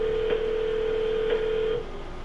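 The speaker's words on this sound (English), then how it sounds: "we'll call him, see if we can get him on the phone." Telephone number being dialed on a phone: a steady tone with two brief tone blips, clear and close, with no voices.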